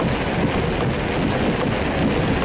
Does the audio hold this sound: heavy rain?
yes